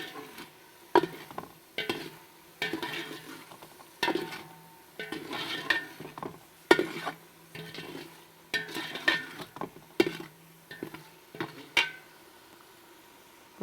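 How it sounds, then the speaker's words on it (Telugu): Brinjals cooking for brinjal dum biryani, stirred gently in a pot with repeated spoon scrapes and light clinks over a faint sizzle, close and fairly quiet, with no talking. "వంకాయలు విడిపోకుండా జాగ్రత్తగా ఇలా కదిలితే వంకాయలు మెత్తగా ఉడికిపోతాయి."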